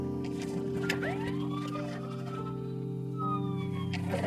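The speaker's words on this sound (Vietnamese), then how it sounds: "Hình như xe cứu thương á." An ambulance siren in a Vietnamese crime drama wails in faint rising and falling sweeps, sounding distant, under a steady droning music bed that continues throughout.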